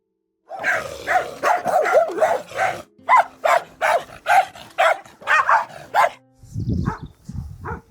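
A dog barks repeatedly in quick, rhythmic bursts close by, followed by a softer whine at the end.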